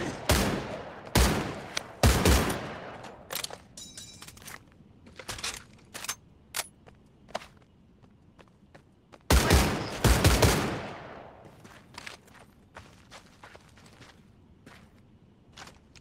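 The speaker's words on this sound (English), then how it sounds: "This Gewehr is the only semi-automatic weapon in your arsenal with optical magnification" A scoped Gewehr semi-automatic rifle firing in the Medal of Honor video game: two loud, sharp shots with echoing tails, separated by several seconds, with fainter metallic clicks and handling noises in between.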